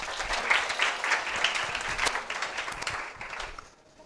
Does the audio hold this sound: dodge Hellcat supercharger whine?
no